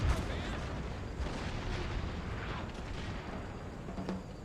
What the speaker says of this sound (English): Tremendous amount of fire going in.